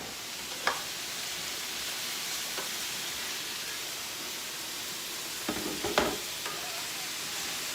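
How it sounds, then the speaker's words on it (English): Vegetables stir-frying in a pan give a faint, steady sizzling hiss, broken by a few soft scrapes and clinks of stirring. There is no talk. "Just make sure you stir frequently so that your vegetables will cook evenly and one side won't be more done than the other."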